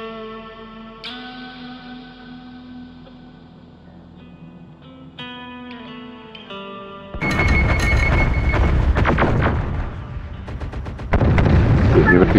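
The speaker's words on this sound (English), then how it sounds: "Gunfire. This wirehead weapon fire. Someone's in a firefight." Gunfire and heavy weapon fire from a firefight in the video game Terminator: Dark Fate - Defiance, loud cracks and booming echoes erupting after a calm musical passage, growing dense toward the end.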